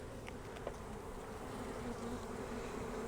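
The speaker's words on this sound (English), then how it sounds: "So the bees are able to move from the top to the bottom." Honey bees drone steadily in a hive during a drone-layer combine check, a close, continuous low buzz with no voices.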